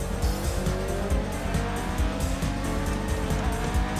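A classic F1 race car in F1 2020 screams along at high revs, a dense raspy engine note with tyres scrubbing, loud and steady throughout without talk.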